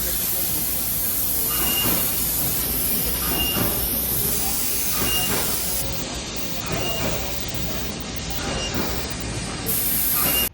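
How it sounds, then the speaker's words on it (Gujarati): A gas cutting torch works inside a warehouse, its steady loud hissing roar holding throughout with faint rhythmic crackles and sputters, as people talk over it. "ગોડાઉનમાં કામ થઈ રહ્યું છે ગેસ કટિંગનું."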